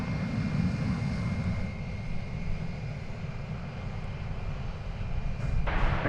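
Taking off from DFW Airport on Flight 3873 to Midland, Texas, an airliner gives a steady, moderately loud engine rumble and wash that swells slightly at the end.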